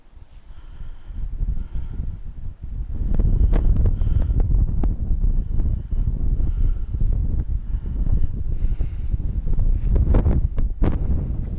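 Heavy wind buffets the microphone in loud, rumbling gusts that swell and ease continuously, with occasional rustling and knocks, while ice fishing over a hole.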